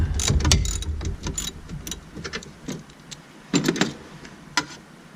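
A 10mm socket ratchet loosening a nut on a Dodge Caliber SRT4 during a transmission fluid change, with faint close clicks and small metallic taps scattered unevenly and no talking.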